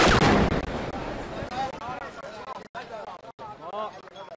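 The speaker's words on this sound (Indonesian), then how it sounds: "Proyektil menghantam bangunan permukiman disertai suara ledakan" A heavy airstrike blast hits residential buildings in the Tyre district of southern Lebanon. It bursts loud and broad at the very start, then gives way to rumbling debris and several people shouting and talking.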